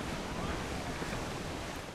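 Heavy sea waves in Assassin's Creed 4: Black Flag roar as a dense, steady broadband wash with wind, loud and continuous with no clear individual breaks.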